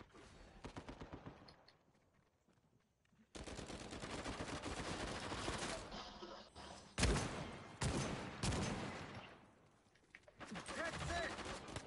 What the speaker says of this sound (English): Getting shot from every direction.